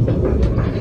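Heard onboard the Kintetsu Blue Symphony limited express train bound for Yoshino: a continuous low rumble of the train running along the track, loud and steady throughout the short moment.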